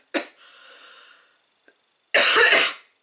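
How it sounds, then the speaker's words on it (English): A sharp cough opens, followed by a wheezy, breathy rasp, then a heavy burst of loud, rough coughing near the end. "as you can tell I'm coughing lots."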